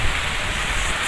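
Steady rain falling outdoors near a swamp fishing spot, a dense continuous hiss of drops on surfaces, loud and close, with no voices over the 1-second stretch.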